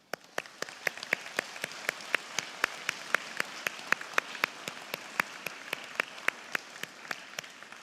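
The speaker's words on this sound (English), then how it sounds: "give them a heartfelt round of applause" Graduates at a college graduation ceremony applaud their families, a steady crowd clapping with crisp, distinct individual claps ringing out regularly over a softer background wash.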